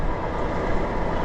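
A continuous low rumbling roar with steady broadband rattle, like a train rolling past close by, constant in loudness throughout.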